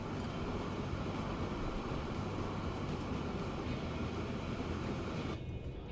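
A train rolls along the tracks in the transport simulation game Transport Fever 2, giving a steady, continuous rumble of wheels and carriages at constant loudness that cuts off abruptly near the end.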